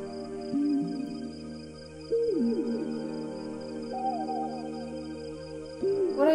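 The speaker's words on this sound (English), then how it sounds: "That's a bird. Is that an owl?" An owl in the video game Proteus hoots in repeated soft, descending calls over a sustained synthetic ambient drone, each hoot clear and close, spaced a couple of seconds apart.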